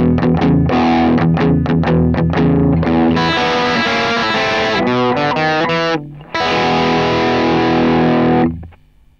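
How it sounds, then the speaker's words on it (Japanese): Recorded guitar riff shaped on a Kemper amp, heavily distorted, with choppy staccato chugs giving way to sustained chords and a final ringing chord that cuts off, played alone with no talking. "例としてテンパーで音作りして録音した一つのリフを再生してみます"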